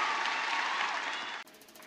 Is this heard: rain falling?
no